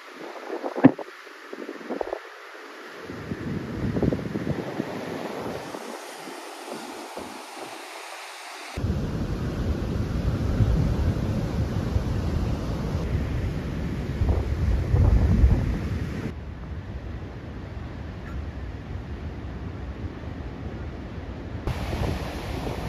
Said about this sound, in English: I don't know if you can hear me, because it's waves and stuff.